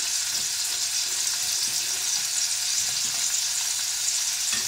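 Hog jowl frying in a pan as its fat renders out for a black-eyed peas dish, giving a continuous close, even crackling sizzle with small pops and no voices.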